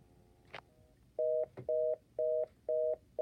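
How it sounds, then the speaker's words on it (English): A repeating two-tone electronic telephone tone on a VoIP line pulses in short regular bursts, about five in a row, loud and clear against a quiet background after a couple of clicks. "Not sure what that was a dial tone from."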